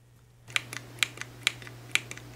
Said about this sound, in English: We have the push button, which sounds like this.